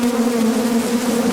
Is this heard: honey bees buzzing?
yes